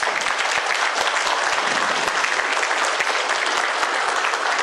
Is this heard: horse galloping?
no